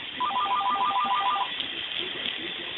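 A telephone rings indoors in a home, a repeating electronic trill in short bursts for about a second and a half, followed by steady background noise.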